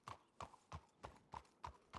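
Steady hoofbeats of a horse clip-clop at an even walking rhythm in the Red Dead WildRP game, about seven quiet, evenly spaced strikes with no talk over them.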